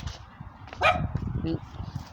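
A dog gives a sharp, close bark, with a few softer yips after it, over voices talking nearby at a home where a 1970 VW T2 Early Bay van is being restored.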